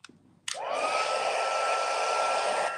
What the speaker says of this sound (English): Now I'm going to bring in my heat tool, and I am going to turn it on so there'll be some noise there.